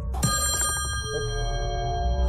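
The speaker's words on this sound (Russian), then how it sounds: "Это зазвонил телефон." Electronic telephone ring in the SlayaWay Camp video game, a steady repeating bell tone with sustained harmonics, heard alone at moderate level with no talk.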